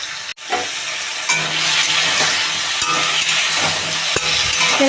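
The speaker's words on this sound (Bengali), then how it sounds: "কড়াইয়ে তেলটা দিয়েছি, তেলটা গরম হয়ে গেছে। এর ভেতরে কাঁঠালের বীজটা আর পটলটা দুটোই ছেড়ে দিচ্ছি।" Jackfruit seeds and pointed gourd dropped into hot oil in a kadai, setting off a sudden loud, continuous frying hiss and crackle that stays strong throughout, close up with no voices.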